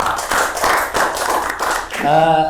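Scattered audience clapping at a business association gathering, a few seconds of claps close by before a voice briefly rises at the end.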